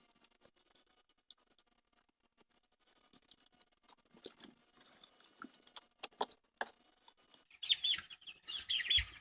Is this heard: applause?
no